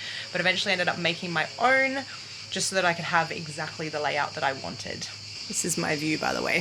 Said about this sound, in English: And you can hear the crickets in the background.